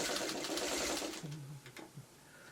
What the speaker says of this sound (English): And you're going to pick that up and now sew that together.